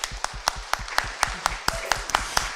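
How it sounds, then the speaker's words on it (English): Audience applause in a conference hall of mirrors: sparse, steady hand claps in a quick even rhythm, a small group clapping at moderate volume with no voices over them. "yes, you may applaud"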